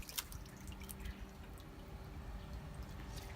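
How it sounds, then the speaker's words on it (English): Water drips into the basin of a Japanese shrine purification fountain. A few faint scattered drops sound over a low steady background hum. "First, you wash your hands with this, I guess, type of holy water."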